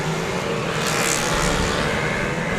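Streetstock race car engines at a night championship meeting in Wellington, New Zealand, rev together at the start, forming a loud, continuous, dense roar that never lets up.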